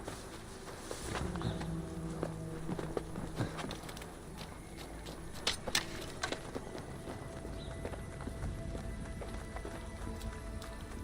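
A horse mount's hooves beat in a steady running rhythm in Assassin's Creed Wrath of the Druids, heard through a dense, noisy ambient wash with occasional sharper knocks.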